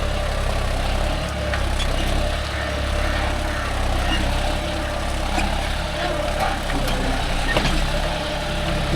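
A John Deere 5050D tractor works a dryland field with its engine rumbling steadily and loudly up close, its low drone holding even with slight surges.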